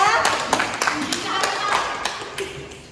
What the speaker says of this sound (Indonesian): tepuk tangan pada Pija